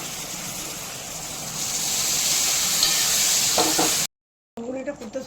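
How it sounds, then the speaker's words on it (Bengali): Vegetarian ghugni without onion or garlic, boiled dal poured straight onto well-fried spices with turmeric, hisses and bubbles steadily in the pot, a dense sizzle that cuts off abruptly before a voice speaks. "ঘুগনিটা ফুটতে শুরু করছে"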